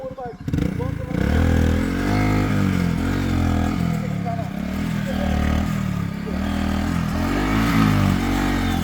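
A motorcycle engine struggles and revs unevenly, rising and falling in pitch for several seconds, loud and close, with people talking over it.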